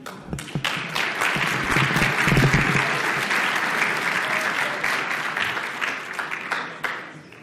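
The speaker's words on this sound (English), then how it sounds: "please give a warm Shmoocon welcome to Tim, who will be talking about, or excuse me, Ian" A conference audience at ShmooCon applauds to welcome a speaker presenting on certificate transparency, a dense, steady wash of clapping that swells midway and then tapers off near the end.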